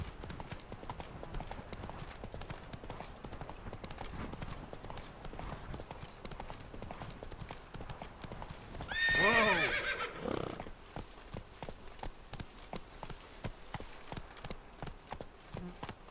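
Roach the horse in The Witcher 3 game: steady clip-clop of galloping hooves runs throughout, with a loud, close neigh bursting out midway before the hoofbeats carry on.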